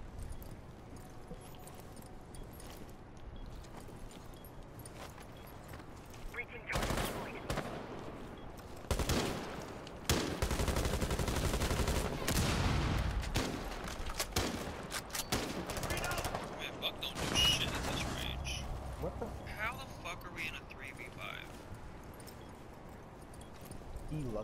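Bursts of video game gunfire, some rapid and sustained, erupt through the middle stretch over a quieter background, with faint talk and other game sounds around them.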